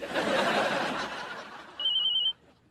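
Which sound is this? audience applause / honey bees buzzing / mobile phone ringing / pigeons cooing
mobile phone ringing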